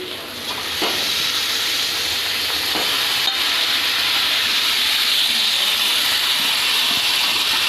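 Marinated mutton goes into sizzling masala and is stirred, setting off a steady, close hiss of frying that holds level throughout, with a few faint stirring knocks.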